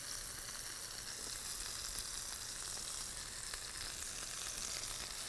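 Lemongrass chicken burger patties frying in a pan, a faint, steady hissing sizzle with no pauses or voices.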